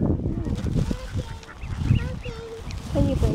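Ducks at a pond being fed bread honk and quack in short repeated calls close by, mixed in with people talking throughout.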